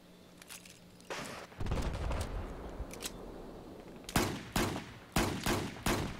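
Bursts of rapid gunfire and sharp single shots in a competitive first-person shooter match, some quick automatic volleys and several loud separate cracks spaced through the span, with no voice over them.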